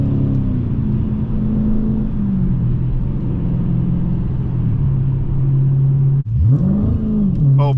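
A 2017 Dodge Challenger Scat Pack 392 Shaker V8 rumbles loudly from inside the car, its deep engine note rising and falling as it accelerates. A gear change briefly cuts the sound before it climbs again, with no talking.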